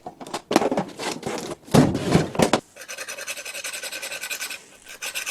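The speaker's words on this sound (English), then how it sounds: "Trying to improve the cutting edge with my diamond hone." A diamond hone rubbed along the cutting edge of a woodturning tool, giving close, raspy, dry strokes in short bursts, then a steadier, finer rubbing scrape with a faint high whine underneath.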